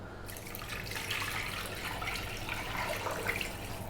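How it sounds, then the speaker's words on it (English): Water poured from a tap or jug into a large pot holding raw chicken for soy sauce chicken, a steady continuous splashing and filling sound, fairly close and even throughout, with no talking. "So I've got that chicken in a large pot. We're gonna add water."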